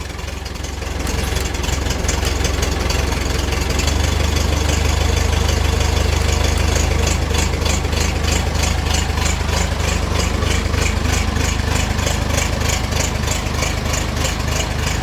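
A 1983 Massey Ferguson 265 diesel tractor idling after a cold start in freezing weather, a loud, steady low clatter with rapid regular knocking that settles into an even rhythm throughout, alone without talk.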